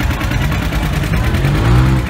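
Old 1960s collector tractor engine running at a farm show, a loud, close, rumbling drone that throbs unevenly throughout.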